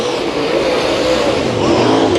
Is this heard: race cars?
yes